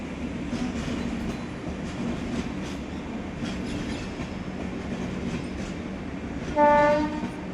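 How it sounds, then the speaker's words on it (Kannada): A double-decker train rumbles past with a continuous clattering roar, and a loud horn blast sounds near the end. "ಟ್ರೈನ್ ಹೋಗುತ್ತೆ, ಚೆನ್ನಾಗಿರುತ್ತೆ ನೋಡೋಕ್ಕೆ"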